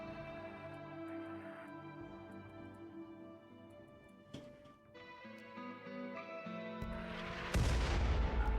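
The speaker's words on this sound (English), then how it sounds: "let's hop on the other mortars because they are already loaded and ready to fire" Mortars fire in the RimWorld video game, a deep boom rising near the end over steady tonal game music and ticking sounds, fairly faint overall.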